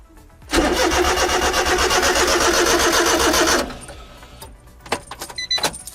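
A Honda Beat scooter engine cranks on the starter for about three seconds, a loud, rapid, chugging whir that cuts off abruptly without catching, followed by scattered clicks and small mechanical knocks.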